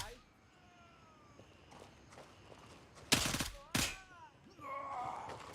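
A couple of sharp, loud gunshots from the military shooter Gray Zone Warfare ring out over a quieter stretch of soft footsteps and faint ambient noise, with a voice talking nearby.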